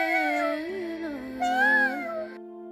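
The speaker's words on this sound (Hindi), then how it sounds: "ये बिल्ली हमारे घर में कहाँ से आई?" A house cat meows in a Hindi moral story, giving a few drawn-out, wavering cries that are close and clear with no other sound around them.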